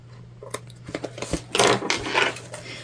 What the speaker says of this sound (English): we're just gonna clip our threads from our back stitching